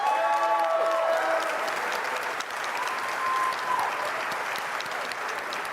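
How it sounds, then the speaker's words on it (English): Sustained audience applause fills a conference hall at a tech event, loud and dense throughout, with faint musical tones briefly sounding underneath near the start. "Big round of applause."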